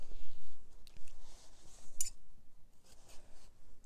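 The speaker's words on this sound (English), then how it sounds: "now I'm going to cut it into 4 equal pieces." Scissors cutting polypropylene webbing into pieces, making close, crisp snipping and crunching sounds in short bursts with brief pauses, and no talking.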